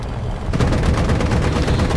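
Aircraft cannon fire from a T-2 jet dueling Bf109 fighters in War Thunder simulator battles: a dense, continuous rattling stream of shots that bursts in loud after a brief rumble and keeps hammering steadily to the end.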